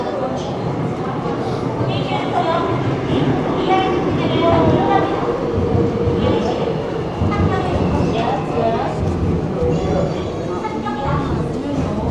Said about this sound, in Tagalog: Okay, the train is coming.